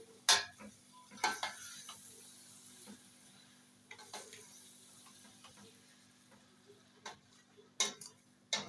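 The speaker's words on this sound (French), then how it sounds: "Bien retourner tout ce mélange." Courgettes and fresh tomato are stirred and turned in a pot for an African djara, with quiet scattered utensil clicks and scrapes coming at irregular intervals over a low, steady background.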